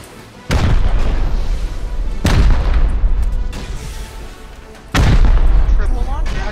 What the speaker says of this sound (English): Triple launcher?